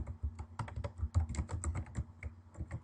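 Fast, uneven typing on a computer keyboard while text is entered into a spreadsheet cell, with dense clicky keystrokes in close, continuous bursts and no talking.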